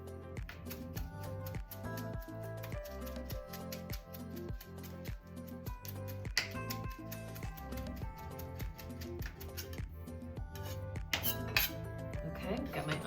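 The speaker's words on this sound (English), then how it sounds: "So I'm just gonna chop up some cilantro." Fresh cilantro chopped with a knife on a cutting board for a chowder topping, a quick run of sharp rhythmic taps with light clinks of dishes.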